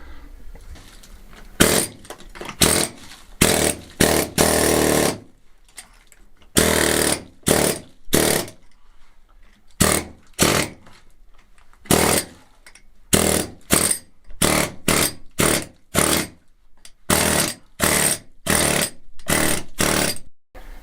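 Repeated bursts of heavy hammering or chipping at old masonry on a Spanish finca, loud and close, in uneven runs separated by short pauses.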